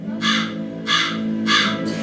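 A crow caws three times in a slow, evenly spaced rhythm, each harsh call loud and close, over a steady low background hum with no talk.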